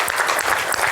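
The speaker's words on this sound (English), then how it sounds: "I actually want you to give them a round of applause" Conference audience at a trade-with-Africa opening address giving the sponsors a round of applause, brief, dense and loud clapping from many hands filling the room.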